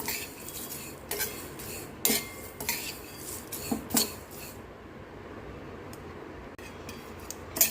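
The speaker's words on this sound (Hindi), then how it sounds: "घी डाल के नहीं भूनना है" Ingredients dry-roasting in a pan with no ghee over a gas flame, a utensil scraping and clattering against the pan in uneven bursts, then fading to quieter occasional stirs.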